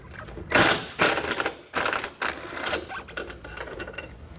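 Wrench working a 12mm bolt free from behind a metal flange during a base plate install on a 2016 Mazda, with repeated ratcheting and scraping bursts close by, uneven in rhythm, no talking.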